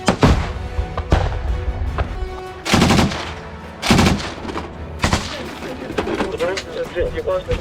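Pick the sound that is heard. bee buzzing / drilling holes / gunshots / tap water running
gunshots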